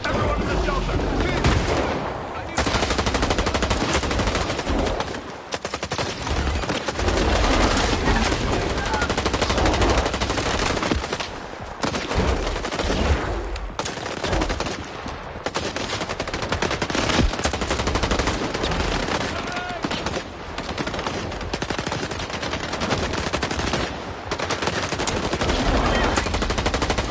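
Sustained machine gun fire from the video game Stalker 2 rattles loudly and almost continuously in dense bursts, with brief pauses and heavy combat noise, and shouting voices are mixed in.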